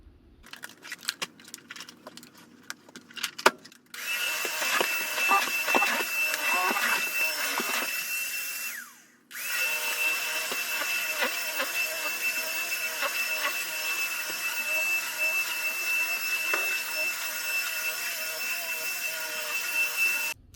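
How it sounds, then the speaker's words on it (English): A vacuum cleaner works over a bedroom rug: light handling clatter first, then a loud steady drone that stops briefly, restarts and runs on continuously to the end. "so I can finish vacuuming"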